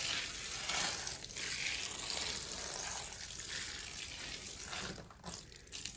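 Homemade flake soil mixture poured into an enclosure, a steady rushing, hissing trickle of loose damp material that runs for several seconds and eases off near the end, with no talking.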